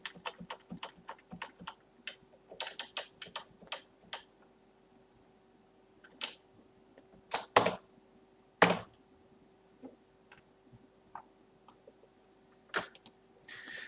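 Computer keyboard keys are pressed while a design program is edited, sparse crisp clicks in short runs with gaps of near silence and a few louder isolated taps, close and quiet over a faint steady hum.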